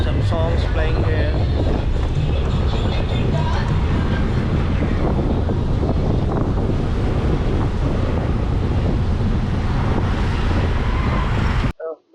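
Loud rushing wind and road roar from a motorcycle ride, with music faintly audible underneath, a dense continuous noise held close to a headset microphone that cuts off abruptly near the end.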